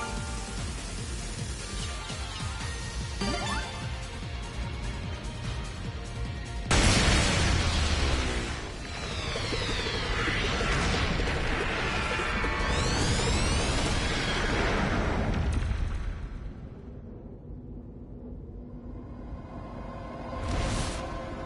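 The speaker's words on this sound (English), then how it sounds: "Cannon!" Cannon attacks in the video game Digimon Story Time Stranger burst out as a loud barrage of booms and whooshing blasts, dense and layered over game music, dropping away near the end.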